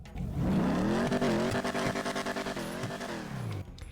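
A muscle car engine in GTA Online revs and pulls through gear changes, its tone rising and falling with a rough, throaty growl, loud and up close.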